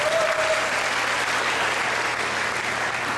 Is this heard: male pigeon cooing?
no